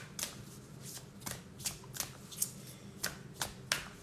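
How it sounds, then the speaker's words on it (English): Oracle cards are shuffled by hand in a quiet room, with a steady run of soft riffling and crisp little snaps, close but faint. "So let's pull a spell casting oracle card."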